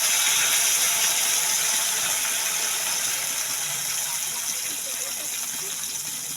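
Water poured into a pan of frying peas for paneer curry makes a steady, close rushing hiss that slowly eases off, with no talking.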